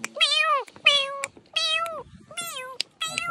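A cat meows five times in a row, each call drawn out and clearly harmonic, close by and loud, with brief pauses between the calls, heard outdoors by a waterside spot in Japan.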